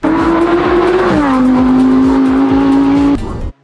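A Porsche 911 GT3 roars loud and close on a race track, its engine holding a high steady note, dipping as it shifts, then cutting off abruptly, with no talk over it.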